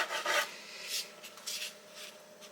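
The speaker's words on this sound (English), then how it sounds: "I'm just going to cut them in two" Knife slicing through soft hotdog bun strips, a few quiet rasping strokes, close up with no talk.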